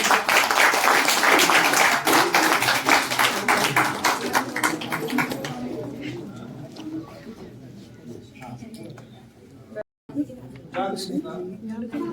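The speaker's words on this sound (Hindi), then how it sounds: "तालियां बजती रहे।" Audience at a bar association event applauding a president, loud rapid clapping from many hands that gradually thins out, followed by someone speaking over faint scattered claps.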